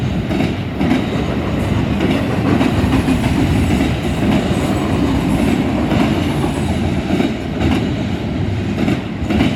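A freight train loaded with SUVs rumbles steadily past close by in Deshler, a continuous heavy roar with rhythmic clacking of wheels over rail joints.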